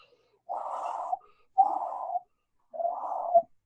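A person blows three breathy, hollow whooshes in imitation of wind, each about half a second long with quiet gaps between them.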